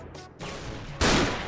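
Gunfire in an online shooter game, a couple of sharp, loud bursts of shots close by, with no talk.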